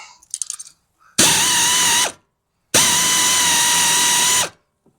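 Power ratchet turning a socket on a Gravely Pro-Turn 152 commercial mower, two loud sustained whirring bursts of about a second and two seconds, close up, after a few faint clicks.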